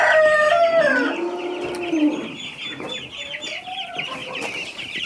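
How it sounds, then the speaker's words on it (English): Chickens cluck and squawk up close, a busy run of overlapping calls with a crow-like cry early on, no talking. "These are all of our chickens."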